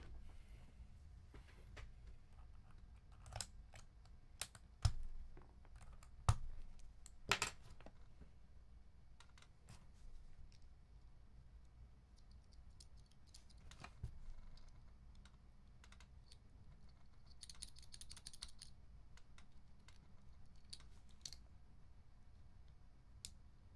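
Keycaps are pressed onto a rebuilt mechanical keyboard, then its switches are tapped, giving sparse sharp clicks and clacks at irregular intervals, close and fairly quiet, with short bursts of quicker typing.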